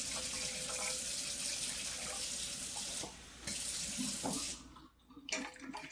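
Water poured into a smaller container for sourdough, a continuous bright splashing stream that briefly drops off, resumes, then tapers and stops near the end.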